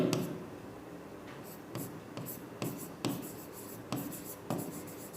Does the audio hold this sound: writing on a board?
yes